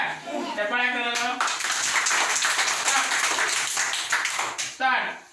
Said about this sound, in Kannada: ಚಪ್ಪಾಳೆ ಹಾಕೋದು.